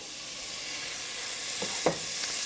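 Precooked sausage browns in a hot pan with a steady, soft sizzle and a few brief stirring clatters near the end.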